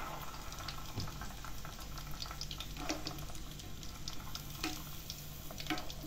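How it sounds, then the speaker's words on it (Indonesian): Fish balls (pentol ikan) frying in hot oil, a dense continuous bubbling sizzle with occasional soft pops and stirring scrapes, steady and close with no talking. "ini kita lagi proses goreng"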